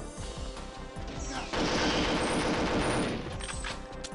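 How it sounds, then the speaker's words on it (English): Rapid automatic gunfire in the video game Perfect Dark, a dense burst of repeated shots that swells into a loud, sustained roar for a couple of seconds before easing back, with no talk over it. "This gun obliterates shields"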